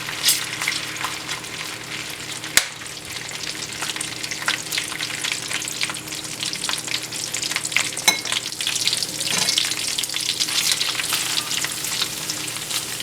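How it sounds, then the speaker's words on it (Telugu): Cleaned dried prawns frying in hot oil, a steady dense crackling sizzle with occasional sharper pops and stirring, close and continuous throughout. "ఆయిల్ వేడెక్కిన వెంటనే ముందుగా కడిగి పెట్టుకున్న ఎండు రొయ్యల్ని వేసుకోవాలి"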